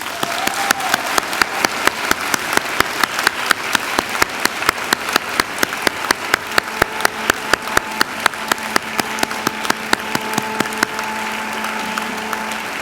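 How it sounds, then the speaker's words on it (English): University graduates at a Macquarie graduation ceremony applaud their family and friends seated behind them; rhythmic, fairly loud clapping with sharp individual claps stands out over a crowd, with faint tonal sounds in the background. "give them a mighty round of applause"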